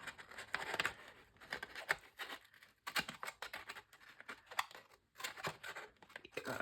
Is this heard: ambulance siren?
no